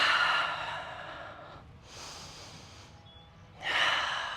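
Deep breathing during a yoga flow: a long, close, breathy exhale, a quieter pause, a softer breath, then another strong airy breath, all alone without talk.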